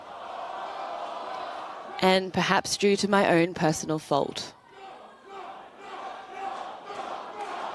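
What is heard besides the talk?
audience shouting no at a French election speech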